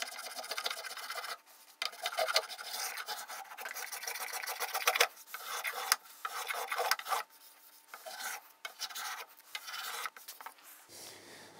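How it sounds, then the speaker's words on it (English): A spokeshave cleans up the surfaces of wooden mission clock parts in repeated rasping, rubbing strokes, close and fairly quiet, with short pauses between passes. "I've got to clean up the surface of these with a spoke shave."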